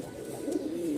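A male Rajshahi giribaz pigeon gives a short, soft, low throaty coo close by, with no talk.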